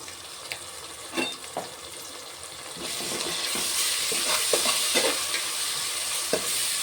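Turmeric and coriander powder are stirred into rice masala frying in a pan, a soft scraping and stirring with light sizzle that grows steadier and louder partway through, no voices.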